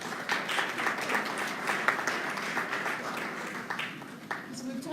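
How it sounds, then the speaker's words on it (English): A crowd at a caregiving education event applauds as two guests are called up, giving moderate, steady clapping with a voice talking over it. "Let's give them a round of applause."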